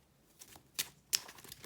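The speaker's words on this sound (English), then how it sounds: "you shuffle as many cards as you want" Playing cards for the card game NOG are shuffled close by, giving a few quiet, sharp riffling snaps spaced apart against near silence.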